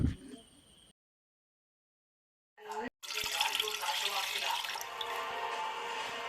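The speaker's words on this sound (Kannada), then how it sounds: "ನೀರು ಪಾಡೋಡು ಬೆಚ್ಚದಿವರೆಗೆ" Water pours into a cooking pot in a home kitchen as a steady, rushing splash. It starts abruptly after a short silence and keeps going to the end, with a little faint voice and noise at the very start.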